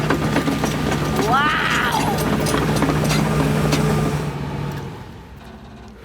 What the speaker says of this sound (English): Here comes the digger! Can you hear the engine?